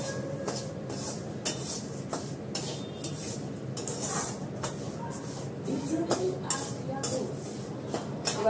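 Lentils fry in a pan and a utensil stirs them, with a steady soft sizzle under repeated scrapes and clinks against the metal, close and moderately loud.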